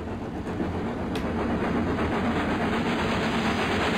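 A video game train rumbles past close by, a dense continuous roar with rhythmic clatter, holding steady and loud throughout.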